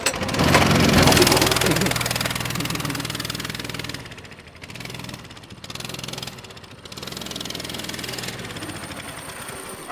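A 200cc mini bike engine with its speed governor removed runs loud and rough, revving high at first and then settling into a sputtering, uneven idle with choppy dropouts, close to the microphone.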